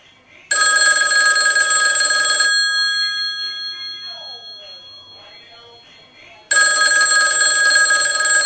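A 1955 Western Electric 500 rotary phone's bell rings loudly in two bursts separated by a pause, with the metallic clang decaying and faint voices in the gap.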